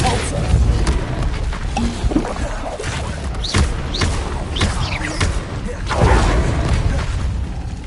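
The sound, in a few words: Repulso spell cast in Hogwarts Legacy video game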